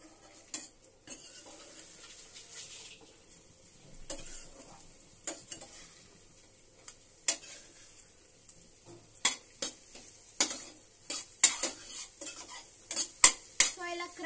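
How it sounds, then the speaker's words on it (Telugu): Spoon or spatula scraping and clinking against a pan while food is mixed, with soft sizzling beneath; irregular taps and scrapes that grow more frequent and louder toward the end. "సో మనం ఇప్పుడు దీన్ని మిక్స్ చేసుకోవాలి"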